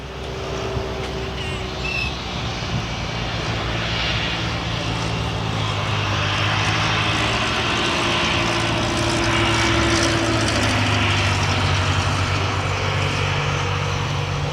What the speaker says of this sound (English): Lovely stuff from the Cessna there. Is he going to butter it down onto the runway?